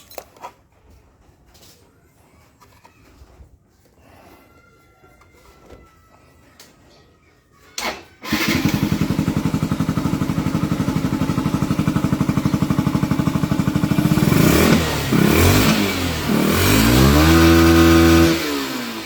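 Yamaha SZ motorcycle fitted with a TMX 155 carburetor, quiet handling sounds first, then the engine fires up abruptly and runs loud and close, revving up and down toward the end.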